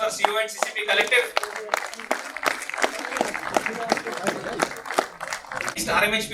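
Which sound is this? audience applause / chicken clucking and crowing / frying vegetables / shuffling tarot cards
audience applause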